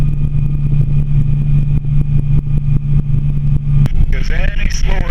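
A Bell 47 helicopter in flight, its engine droning steadily with a low rhythmic beat from the rotors, loud and close, while people talk over it throughout.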